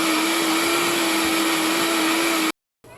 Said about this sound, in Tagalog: magbe-blend tayo ng apple